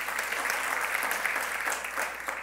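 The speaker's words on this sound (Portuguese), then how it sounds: "Você pode aplaudir ao Senhor aí?" A church congregation claps in sustained, even applause, a soft wash of many hands heard from some distance with no speech over it.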